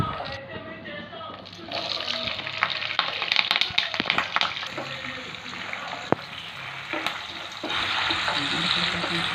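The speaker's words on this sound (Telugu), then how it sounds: "ఇప్పుడు ఉల్లిపాయలు, పచ్చిమిరపకాయలు కూడా వేసేస్తున్నానండి" Onions and green chillies frying in oil with mustard seeds for a stuffed brinjal curry: a steady, close, crackling sizzle with a few louder pops and stirring scrapes.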